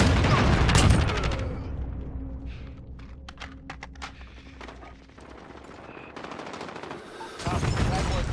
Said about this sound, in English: Taking fire! Enemy at the restaurant.